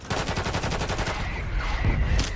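Rapid gunfire in a Call of Duty Rebirth ranked match, a fast string of sharp shots in quick succession, loud and close, followed by a dense burst of game noise.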